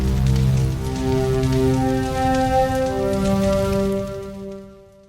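A ring-modulated synthesizer patch sounds on a higher note, with layered tonal partials that shift and overlap above a hissing noise bed, sustained for several seconds before tapering away.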